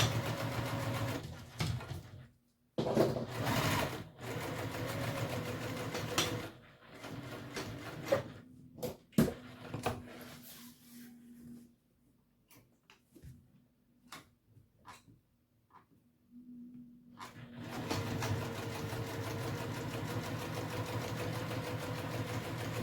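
Sewing machine stitching a bowler hat in bursts of steady mechanical whirring, stopping and starting with quiet gaps and a long pause in the middle before a sustained final run, close and without talk.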